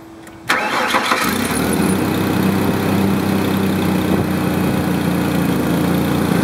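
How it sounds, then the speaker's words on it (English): A car engine cranks briefly and catches, then settles into a steady, close, loud idle; the car's coolant is being tested with the engine at idle. "Now I'm going to go turn the engine on"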